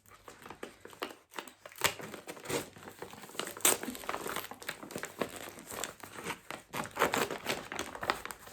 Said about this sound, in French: je vais ouvrir mon achat Vinted